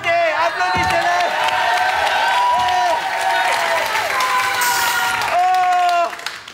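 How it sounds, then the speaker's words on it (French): A studio audience applauds and cheers on a 1992 French comedy show, dense clapping with a few whoops, while a voice speaks and sings in sustained, melodic tones over it. "Applaudissez-les."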